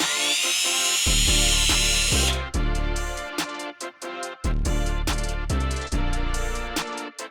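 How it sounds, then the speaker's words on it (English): A high-pitched power drill whines continuously at first, then runs in repeated short bursts with pauses between them, loud and close, drilling holes in the step of a 2026 Chevrolet Silverado truck for pod lights. "we're gonna go ahead and drill our holes"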